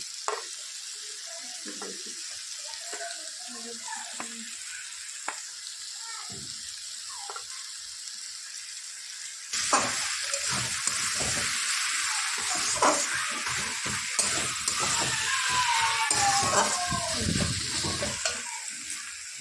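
Fried prawns go into bottle gourd in a pan, and the gentle sizzle turns into a louder crackling fry with stirring scrapes partway through.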